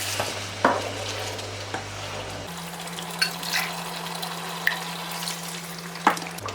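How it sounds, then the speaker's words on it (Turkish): Vegetable broth poured into a pan of sautéed tomatoes for a Greek-style bean pilaki, giving a steady close sizzle and frying hiss with a few clinks and stirring knocks, no talk. "Domatesi de 2-3 dakika kadar kavurduktan sonra sebze suyunu ilave ediyorum."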